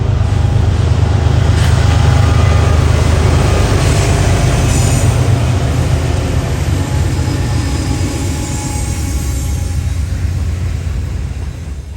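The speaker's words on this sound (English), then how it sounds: "it looks like this locomotive lash-up is on the" A locomotive lash-up working in the Greenville rail yard in South Carolina gives a steady, loud diesel rumble with wheel squeal and metallic rail noise, slowly easing off toward the end.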